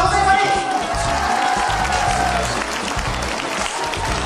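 An audience claps hands in a loud, sustained round of applause, dense and continuous with some voices mixed in.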